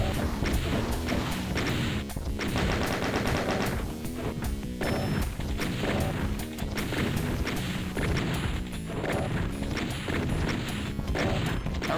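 Doom shotgun pellets fire amid a constant din of impacts, thuds and crashing combat noise, loud and unbroken throughout, with repeated sharp hits layered over a dense game soundtrack.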